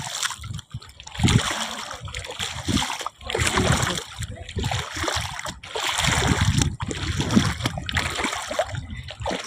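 Repeated splashing of sea water as someone wades through it, rhythmic surges with short pauses, close and fairly loud.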